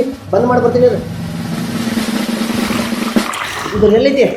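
Water runs continuously with a loud rushing hiss, wasting away. Voices talk over the start and end of the flow.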